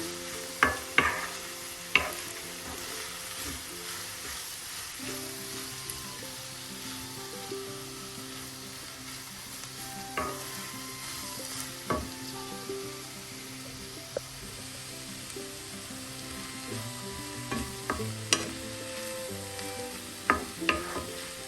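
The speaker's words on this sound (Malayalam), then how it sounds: "അരപ്പ് ചേർത്തൊന്ന് മിക്സ് ചെയ്യാം." Green beans thoran with ground coconut paste sizzles gently in a pan while a spoon scrapes and stirs in scattered clinks and taps, close and fairly quiet, with no speech.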